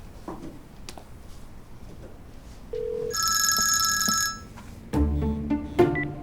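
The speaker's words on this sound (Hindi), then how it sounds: "मैं फिर भी एक बार अप्पू को फोन करके कंफर्म कर लेती हूँ।" A short electronic beep, then a telephone rings with a bright trilling bell for about a second; clicks and a burst of low noise follow, in a TV drama scene.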